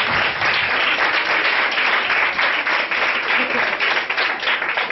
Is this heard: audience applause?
yes